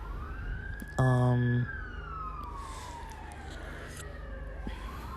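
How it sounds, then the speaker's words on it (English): A siren wails in the distance, its tone sweeping slowly up and down over background traffic noise, with a brief horn-like blast near the start. "sirens"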